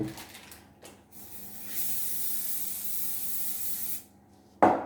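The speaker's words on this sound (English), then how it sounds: "Give them a spray with olive oil" A steady hiss of olive oil aerosol spray lasts a couple of seconds, preceded and followed by brief rustling handling noises close by.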